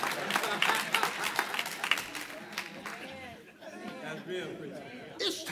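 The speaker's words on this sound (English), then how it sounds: "They ain't clapped all day." Church congregation bursting into applause, a lively spread of clapping with crowd chatter and a voice speaking over it, the claps thinning toward the end.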